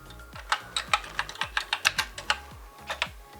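Keys pressed one after another on a BBC Model B computer keyboard under repair, a dozen or so close, crisp clacks in an uneven rhythm with short pauses.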